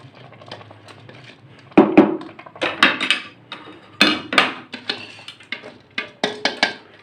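Uncooked rice tipped into a cooking pot while making chicken daigi pulao, heard as a few sharp clattering, pattering bursts with quiet gaps between them, close and fairly loud.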